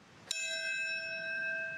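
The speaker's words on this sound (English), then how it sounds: "That's the first of the bell ringings at Ground Zero in New York City this morning" A single bell strike at Ground Zero in New York City, one clear metallic hit that rings on as a long, steady, sustained tone with no voices over it.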